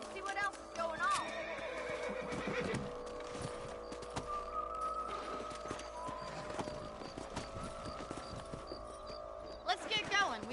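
Horses whinny and hooves clip-clop in the Red Dead Redemption video game on PS5, with neighs rising clearly at the start and end over steady in-game ambience and speech.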